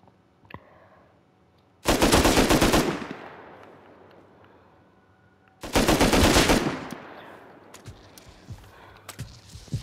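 Two long, loud bursts of automatic gunfire from a spraying weapon in Warzone sound close by, each lasting about a second, separated by quiet with faint footsteps and small clicks.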